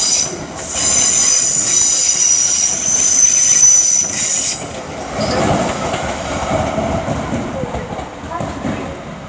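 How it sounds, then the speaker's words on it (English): A London Northwestern Railway Class 350 electric train pulls out of Euston, its wheels squealing loudly and steadily at close range before giving way to rumbling and faint rail clatter as it moves off; a voice speaks partway through. "350-104 is heading back out again with the 1523 to Birmingham New Street"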